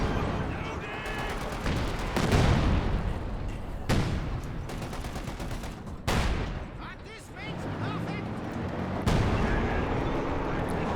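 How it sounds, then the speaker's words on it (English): Anti-tank guns fire repeatedly at a Pershing tank during a Company of Heroes 2 world championship match, with sharp booming shots and battle noise rolling continuously under game commentary. "Just taking guess shots, trying to hit the Pershing. Some of the shots that do hit are bouncing."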